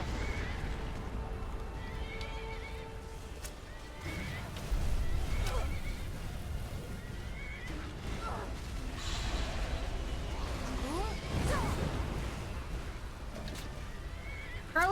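A horse whinnies several times amid clopping hooves and clashing combat effects in Skyrim during a dragon fight, with voices talking over the action.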